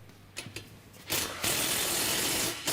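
Hardware on a winch mount of a Honda Talon 1000 being tightened, a few quick ratchet clicks followed by a longer loud whirring power-tool burst, close up.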